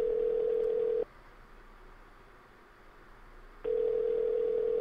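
Telephone tone in the video game Sally Face: a steady electronic tone sounds for about a second, falls silent for over two seconds, then resumes, the repeating pattern of a call ringing unanswered, with no talk over it.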